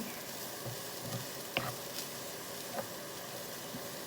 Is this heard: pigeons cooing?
no